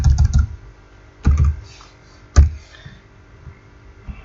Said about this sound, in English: Like here, I'll type my name in.